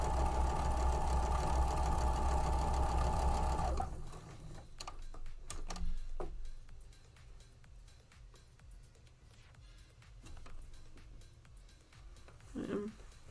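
A sewing machine stitching quilt fabric pieces for a Norfolk Wild Meadow quilt block hums steadily and loudly for about four seconds, then stops, leaving quiet handling noises and faint talk.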